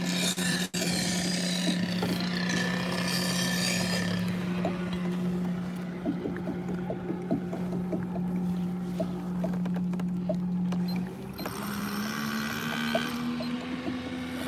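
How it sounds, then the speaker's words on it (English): Bixpy electric motor pushing a kayak across water near a seawall, with a steady low hum that shifts pitch near the end. Water and hull rubbing sounds sit above it, close and continuous. "I love this Bixpy motor."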